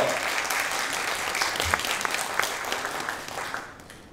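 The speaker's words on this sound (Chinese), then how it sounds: "现在让我们热烈掌声欢迎李教授" A forum audience claps steadily to welcome a speaker onstage, a dense wash of moderate applause that holds evenly and thins out toward the end.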